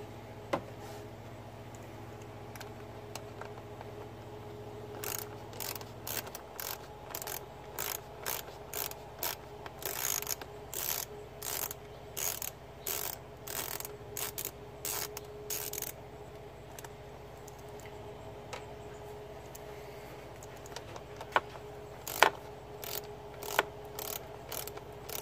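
Ratchet clicking as bolts are loosened on the throttle body of a Ford F150 EcoBoost, rapid faint close-up bursts of ticks repeating in short strokes over a quiet background.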